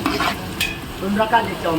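A brief burst of crackling sizzle as tempering spices hit hot oil for wheat rava upma, with a quick stir partway through.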